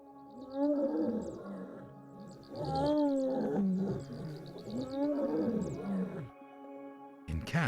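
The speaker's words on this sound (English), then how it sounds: "When it roars, the air has a longer cavity to vibrate in and produces a rich, deep sound." A lion gives several deep, rich roars in a row, each swelling and fading with short pauses between. They are loud and close, with no other voices.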